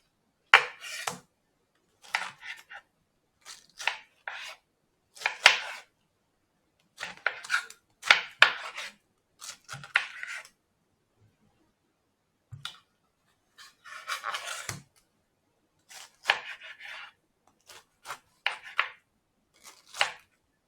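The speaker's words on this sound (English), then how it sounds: "I'm going to just cut him up chunky as I did with all the pine." Knife chopping pineapple into chunks on a board, a long series of sharp, close cuts in irregular clusters separated by short pauses.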